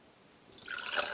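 Salt solution being poured into a cup, starting halfway through as a close, bright splashing trickle that builds and stays steady to the end, with no talk.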